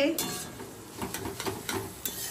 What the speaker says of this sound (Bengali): এখানে এখন এই যে ভুজিয়ার জন্য টমেটো, পেঁয়াজ টিয়াজ এইসব আর কি ভাজা হচ্ছে